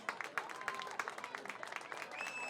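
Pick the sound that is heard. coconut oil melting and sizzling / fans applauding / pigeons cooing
fans applauding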